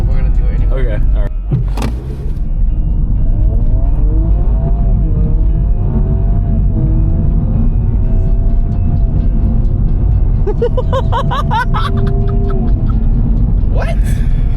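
A car engine is floored and revs up in a long rising pull, its loud close rumble and climbing whine running steadily throughout, with people talking and reacting over it.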